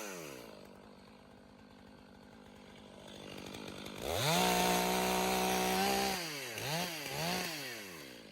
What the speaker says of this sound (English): The harsh noise of the power tools dominates the silent forest.